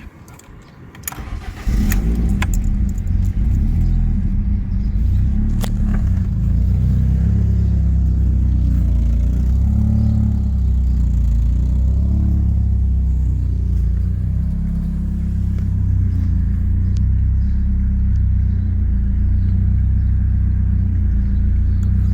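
A BMW 318is E36 engine, running on ethanol, cranks and catches, then settles into a loud, steady idle rumble that runs continuously, close by, with no talking.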